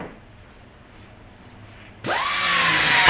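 A power tool abruptly starts and whines loudly, trimming excess fiberglass from a bass boat hull in a factory trim booth, after two seconds of quiet room noise.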